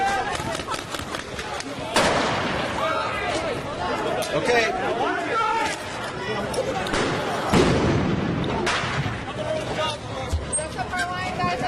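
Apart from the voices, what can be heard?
fireworks being thrown and exploding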